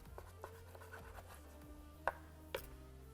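A knife cuts through a large raw chicken breast on a board in a kitchen, with soft scraping strokes and two sharper taps of the blade hitting the board, close and fairly quiet.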